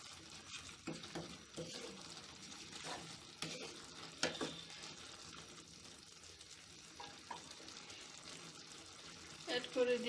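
Garam masala being stirred into a rajma prawn curry in a pan: soft sizzling and frying with intermittent scraping stir strokes, fairly quiet and close, with occasional clinks.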